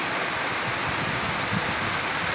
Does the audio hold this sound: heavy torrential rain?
yes